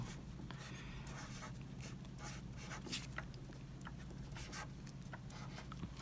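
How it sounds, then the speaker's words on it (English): Marker drawing on Legion paper, with soft scratchy strokes repeating in short bursts over a low steady background hum, close and quiet. "And then, again, you can draw something in there."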